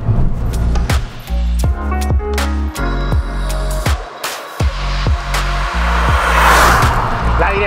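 A MINI Cooper S R53 supercharged engine pulling hard through repeated gear changes, loud and close, its revs climbing in steady stepped rises with brief dips between shifts.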